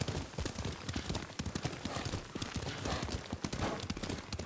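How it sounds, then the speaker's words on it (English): Horse hooves gallop fast and continuously in Ghost of Tsushima, a dense, loud drumming close by with wind and movement noise filling the whole stretch. "Lord Sakai taught me to ride a horse."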